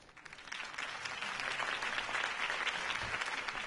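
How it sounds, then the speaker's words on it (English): Crowd applause follows a campaign speech at a rally in the Batman Telltale game, a dense, steady clatter of clapping that swells in quickly and holds at moderate volume. "could have heard that applause"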